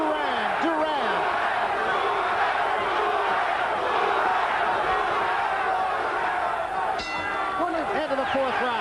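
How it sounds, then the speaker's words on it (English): A packed arena crowd at a middleweight title boxing bout between Roberto Duran and Marvelous Marvin Hagler roars and chants for Duran, a loud, continuous mass of rhythmic voices swelling throughout. "Crowd comes alive once more with a chant, Duran, Duran."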